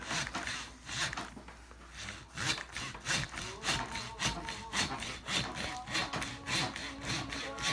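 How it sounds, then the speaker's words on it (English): A hand saw cutting through pig bone during home butchering, a close, rhythmic rasping of steady back-and-forth strokes repeating for several seconds, with no talking over it. "You can actually hear when you get through the bone."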